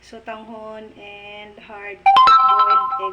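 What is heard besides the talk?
cellphone ringing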